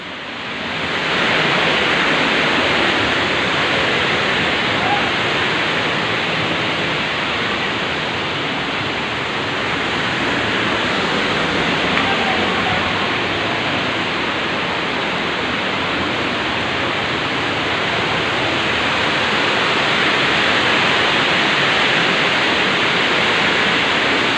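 Water rushes loudly and continuously at Wawa Dam in Montalban, Rizal, a dense, unbroken roar of flowing water close by with no other sounds over it.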